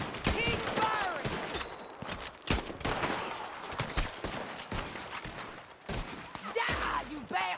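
Rapid gunfire in the video game Red Dead Redemption 2 during a shootout, bursts of close, sharp shots and volleys with brief gaps, mixed with shuffling movement and hoofbeat-like clatter.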